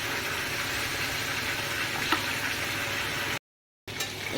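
Pointed gourd (potol) pieces frying in hot oil in a home kitchen: a steady, moderately loud sizzling hiss that carries on evenly, cut off by a brief dropout before it picks up again.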